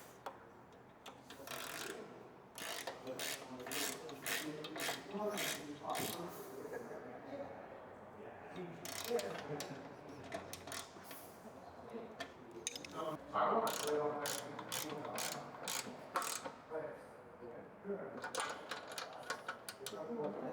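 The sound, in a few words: tightening fuel tank cover bolts with hex and wrench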